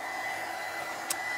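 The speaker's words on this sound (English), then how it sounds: "absolutely dry it with the heat gun if you want, or if you prefer, you can let it dry naturally" A heat gun blows steadily while drying craft gel on a rustic altered bottle, a constant airy whoosh with a tiny click near the end, close and alone.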